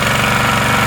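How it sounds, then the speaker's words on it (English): A trash pump pushes water through a suction line, its engine a loud, rough, steady clatter that fills the whole short moment up close. "This is my trash pump."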